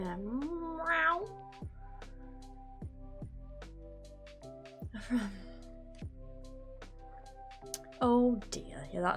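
A pet cat named Floki meows several times indoors during a crafting stream, short tonal calls standing out over soft background music, with a person speaking at points.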